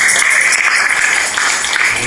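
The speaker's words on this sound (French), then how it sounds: "On applaudit Jésus très fortement" Loud, sustained applause from a church congregation during a worship service, a dense, continuous wash of clapping throughout.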